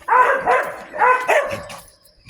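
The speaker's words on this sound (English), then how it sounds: "this one dog just barks and barks and cries when it barks like it doesn't know you, and then it'll get the other dogs barking" Several dogs bark in loud, close bursts, two quick barks then another pair, with whiny, crying edges before trailing off.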